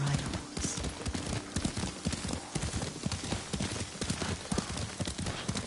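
Horse hooves clip-clopping at a steady riding pace in Ghost of Tsushima, a rhythmic stream of close hoof falls over ambient game sound, without voices.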